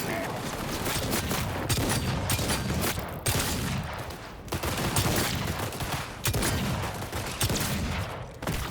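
Sustained gunfire and bursts of automatic weapons fill a combat scene in the video game Cyberpunk 2077, dense and continuous with repeated loud volleys, a voice briefly speaking underneath.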